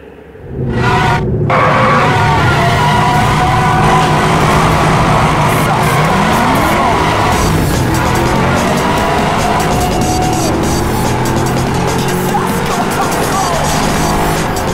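A Chevrolet Camaro SS with a 6.2-liter V8 races in Need for Speed Hot Pursuit Remastered, its engine roaring loud and continuous with rising gear sweeps, tire squeal and a brief skid, under faint game sound.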